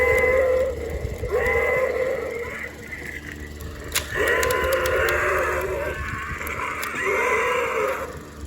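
An electronic roar plays from a Playmates King Kong 2005 Bull V-Rex dinosaur toy, a rough, moderately loud bleating cry repeated in several bursts.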